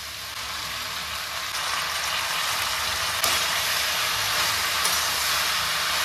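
Washed chicken pieces frying in a hot pan, giving a steady, loud, close sizzle that holds evenly throughout with only faint clicks, and no talking.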